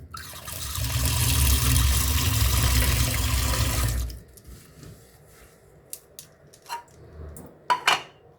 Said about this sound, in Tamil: முருங்கைக்கீரை வாஷ் பண்ணிட்டு